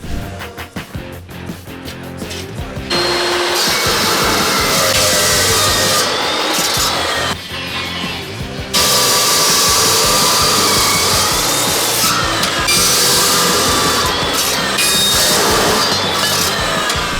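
A power saw cuts 2x1 steel tubing for a vehicle's wheel well, running loud and steady in long harsh passes broken by a couple of short pauses, with no talking.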